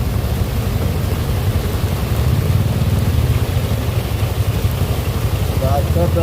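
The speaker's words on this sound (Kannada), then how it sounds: "ಜೋರ ಹೊಡಿತಿದೆ ಮಳೆ." Steady, dense roar of heavy rain pouring down on a road at Hennur Cross, constant and loud throughout, with a low rumble underneath.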